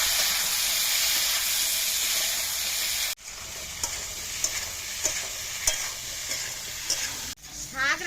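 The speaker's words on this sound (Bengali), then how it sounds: "সবজিটা ভালোভাবে কষাবো" Chopped vegetables stir-fried in a pan after dry red chillies and five-spice seeds, a steady close sizzle and hiss with a few scraping stirs, briefly cut off twice.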